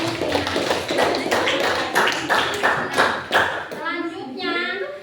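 A classroom of children claps in a loud, rhythmic unison pattern for a correct answer, then the clapping stops and a voice speaks.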